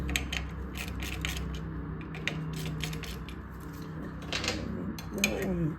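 Socket wrench tightening clutch bolts on a Harley-Davidson Servi-Car during clutch and primary installation, with steady close metallic clicks and ratcheting over a constant background hum.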